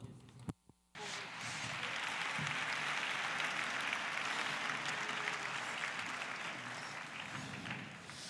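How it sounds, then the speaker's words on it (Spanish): A lecture audience at the MEXTRÓPOLI 2016 architecture and design festival breaks into loud, sustained applause after a brief gap, the clapping holding steady and dense to the end. "Recibámosla con un fuerte aplauso"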